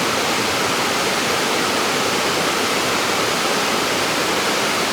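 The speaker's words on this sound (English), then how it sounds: "Isn't that water shooting out of that rock?" Water gushing out of a rock beside a road in Cades Cove in the Great Smoky Mountains, a steady, dense broadband rush that stays loud and even throughout with no voices.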